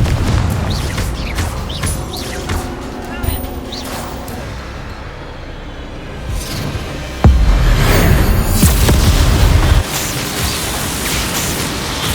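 A Confringo fire spell explodes in the Hogwarts Legacy video game, heavy booming blasts with broad rushing noise swelling loudly mid-clip over continuous battle rumble, no speech.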